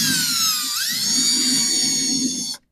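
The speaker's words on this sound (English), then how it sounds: "And run this screw" A power drill drives a screw into a wooden garden bed, a loud steady high whine that rises in pitch early on, runs continuously for about two and a half seconds, then cuts off abruptly.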